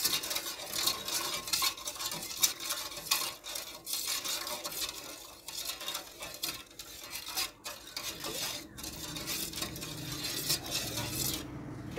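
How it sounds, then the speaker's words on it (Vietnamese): A spoon scrapes and swirls through a bowl of sugar and agar jelly mixture, making soft continuous stirring and clinking sounds, close and fairly quiet with no talking. "Và mình sẽ khuấy như vậy nha."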